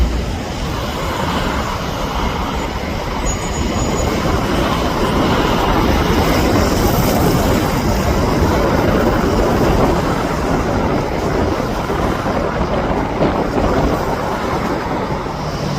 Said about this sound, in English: I also caught this Latam 787 starting its takeoff roll.